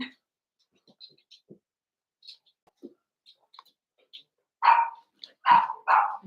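A Cavalier puppy lets out a few sharp, close barks after a stretch of quiet small sounds as it is lifted up indoors.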